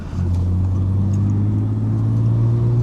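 A car engine drones loudly at a strained, steady high pitch, as if held in the wrong gear, without any shifting.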